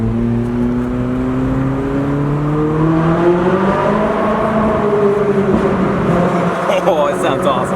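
A Ferrari engine revs and pulls hard inside a tunnel, a loud, steady roar with rising and falling pitch reverberating off the walls throughout.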